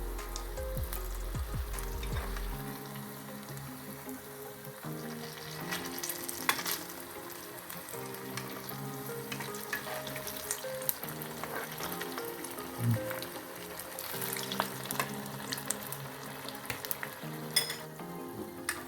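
Jalebi bubbling in hot oil gives a soft, continuous frying fizz with occasional light spatter, while quiet background music plays underneath and no one speaks.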